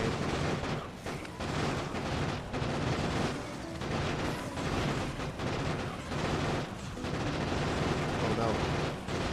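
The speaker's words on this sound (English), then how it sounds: "Just totally wasted grenade." Grenade explosions in Factorio amid heavy, continuous booming and crackling combat noise, loud and dense throughout, with a voice talking over it.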